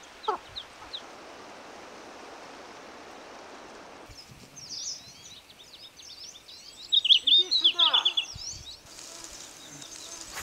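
Fluffy chicks peep in a taiga setting, a rapid burst of high, thin calls standing out near the end over a soft steady background hiss, with fainter bird sounds earlier.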